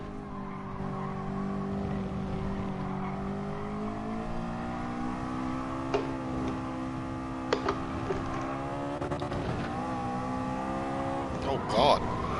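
A Nissan Nismo car races in a driving video game, its engine holding a steady droning whine that shifts in pitch, with brief tire squeals and knocks, heard continuously under a person talking.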